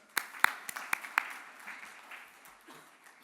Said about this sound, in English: Can we have a big round of applause for our sponsors?